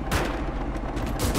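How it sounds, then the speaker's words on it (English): Machine gun fire in a World War II video game battle in a swamp, a dense crackling stream of shots with heavy low booms, loud and continuous with no talk. "they've got this area well scoped out by a machine gun"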